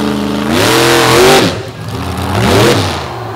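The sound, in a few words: monster truck Stone Crusher launching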